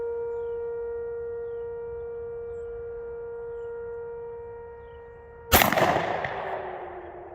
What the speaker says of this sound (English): So put the ears on and let's shoot one.